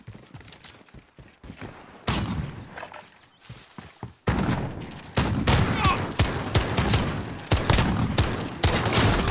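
Shotgun blasts and other gunfire from a Call of Duty: Modern Warfare gunfight match, sharp repeated shots that start sparse and grow into dense, loud bursts through the second half.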